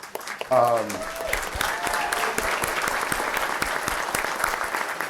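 Audience applause at a city's State of the City address fills the room, a steady dense wash of clapping lasting several seconds, opened by a brief raised voice or cheer near the start, with faint voices mixed underneath.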